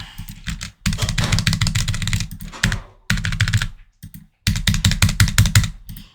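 Close, loud clacking of a computer keyboard in quick bursts of keystrokes, broken by short pauses and a few brief silences.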